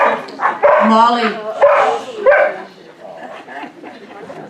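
A dog barks and yips a few times during an Easter church service, the bursts close and loud, with people talking around it.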